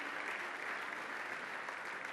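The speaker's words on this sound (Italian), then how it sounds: "L'applauso del pubblico di Udine per Cinema Zero." An audience at an economy awards ceremony in Udine applauds Cinema Zero, a Pordenone cultural association, with steady, even crowd clapping heard from some distance and no voices over it.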